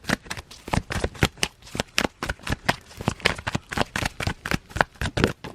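Tarot cards shuffled by hand in a quick, steady run of crisp riffling bursts, close and clear, repeating about four times a second with no talking.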